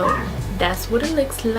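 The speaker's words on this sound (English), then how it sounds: "If you hear a barking in the background, that is my dog" A pet dog barks and yips in the background of an indoor room, short sharp calls repeating under a woman's close, steady talking.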